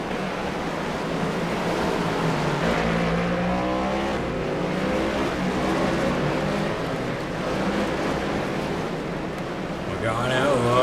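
Stock cars race at the Mid-Ohio road course in iRacing, with engines roaring continuously as they brake and downshift. A commentator talks over the steady, loud engine noise.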